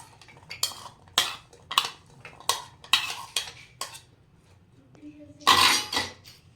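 Cut amla (Indian gooseberry) pieces drop into a mixer grinder bowl for a mint sherbet, a run of sharp, close clattering knocks and taps that ends with a louder tumble of pieces.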